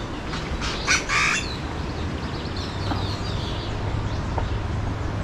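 A bird in Costa Rica lets out a couple of short harsh squawks early on, then faint calls over steady outdoor background noise.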